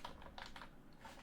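Computer keyboard keys being typed in short bursts of clicks, fairly close and clear, with no talking over them.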